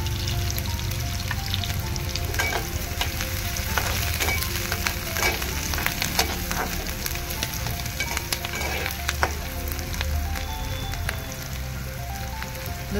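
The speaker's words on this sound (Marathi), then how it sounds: "हिरवी मिरची टाकूया." Green chilies drop into hot oil and fry with a steady, close crackling sizzle, dense popping spatters continuing evenly throughout without any talk.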